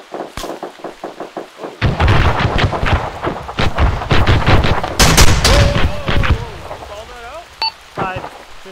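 Soldiers engage a two-story house in a walled compound with sustained gunfire: a rapid string of sharp shots gives way to loud, dense bursts of automatic fire and heavy reports, with voices and radio chatter in between.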